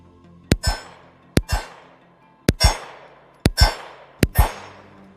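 Five pairs of sharp gunshots, each followed closely by a metallic clang of the bullet striking a steel target, fired at a steady pace during an abuse test of an Aimpoint Acro P-1 red dot sight; loud and close, no talking.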